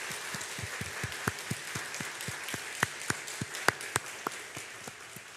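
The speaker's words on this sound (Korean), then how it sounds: "그 주님께 우리 영광의 박수를 올려드리겠습니다." A Korean church congregation claps during an Easter Sunday worship service. The claps are distinct and fairly faint, falling in a steady, even rhythm with a few louder strikes, heard from a distance in a reverberant hall.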